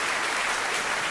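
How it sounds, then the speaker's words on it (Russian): Dense, continuous applause from a live concert audience in Israel, many hands clapping loudly together in a steady, full wash of sound with no talking. "Можно еще аплодисменты, друзья?"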